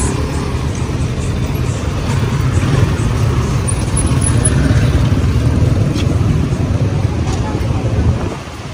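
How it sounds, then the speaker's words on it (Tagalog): Busy road traffic with many cars rolls past on a hot Saturday in Palawan, Philippines, a loud, continuous rumble of engines and tyres close by that eases slightly at the end. "Ang daming sasakyan."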